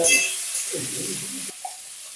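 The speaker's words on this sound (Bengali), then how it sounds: "এঁচড়গুলোকে এবার লাল লাল করে আমি ভেজে" Jackfruit pieces fry in hot oil for a vegetarian biryani, giving a bright, hissing sizzle that fades after a moment, with a faint stirring rustle underneath.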